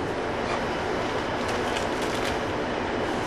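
A First Great Western local train runs from Plymouth to Penzance, heard from inside as a continuous loud rumble and roar with faint rhythmic wheel clatter and no talk.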